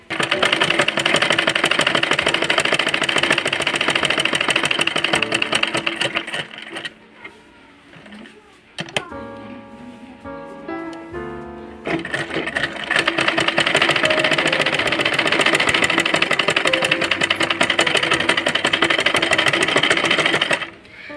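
A domestic sewing machine runs loud and steady, stitching along both sides of a chalk line on fabric for a child's umbrella frock. It pauses briefly midway for a few mechanical clicks, then resumes its continuous whirring hum.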